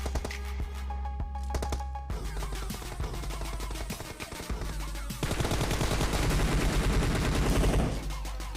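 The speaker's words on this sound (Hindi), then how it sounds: "आगे फायरिंग हो रही है" Gunfire in the video game PUBG Mobile, including M249 and Mini 14 weapons: rapid bursts of shots crackle in quick succession, growing denser and louder toward the end as sustained automatic fire.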